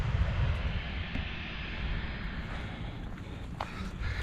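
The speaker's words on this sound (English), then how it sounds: "Oh, our first plane today, a Jet 2." A Jet2 passenger plane passes near the perimeter fence at Manchester Airport, a steady loud engine roar filling the whole stretch with deep rumble, heard outdoors with no talk.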